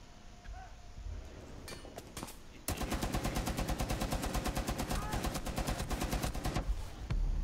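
Rainbow Six Siege gunfire starts with a few scattered single shots, then an automatic weapon fires a long rapid burst, loud, close and sharply rhythmic.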